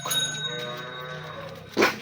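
Dairy cows at a cattle market in Cumilla give a long, drawn-out moo at moderate distance, followed by a short louder low call near the end, with no talking.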